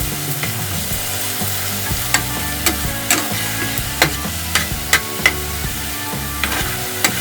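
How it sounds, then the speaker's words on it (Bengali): A spoonful of ginger-garlic paste fries in a pan of vegetables while a spatula stirs it, giving a steady close sizzle punctuated by regular sharp clinks and scrapes of the utensil against the pan. "এক চামচ আদা রসুন পেস্ট দিলাম।"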